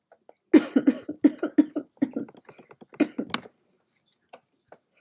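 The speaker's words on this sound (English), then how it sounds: "I'm not coughing as bad as I was." A person coughs in a rapid, close series of a dozen or so harsh, choppy bursts over a few seconds, then falls quiet apart from faint small clicks.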